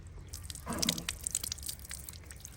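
Water splashes and drips over spider lily bulbs as they are rinsed clean, a short burst of running water and scattered drips heard close up without talk.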